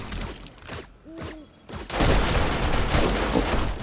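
A burst of SMG turret gunfire fills a horde-base killing corridor in 7 Days to Die, with scattered shots early, a brief lull and then dense rapid fire at mid distance, no talk.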